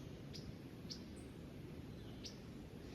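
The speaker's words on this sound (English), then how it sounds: "up here in the trees, we have a Bewick's wren" A Bewick's wren calls from trees in sunlit woodland with a maple overhead, giving a few brief, thin high chirps spaced apart over a steady low rumble of background noise.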